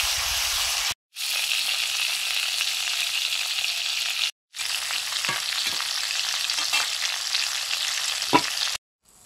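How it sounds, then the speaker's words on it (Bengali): Crabs frying in a pan, a loud steady sizzle broken by two brief cuts, with occasional scrapes and soft clinks of stirring over the constant hiss. "কাঁকড়াগুলো ভাজা হচ্ছে"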